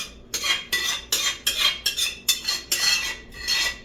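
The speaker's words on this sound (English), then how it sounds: "Sorry for that scraping noise" Repeated metallic scraping of a utensil against a pan as cabbage is scraped out, about eight rhythmic strokes, close and fairly loud with no talking.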